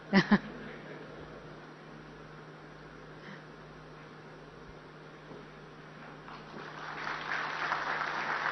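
A conference audience applauds at the 25th ICID and International Executive Council meeting: a diffuse, steady patter of many hands, heard from some distance, that swells louder and denser near the end.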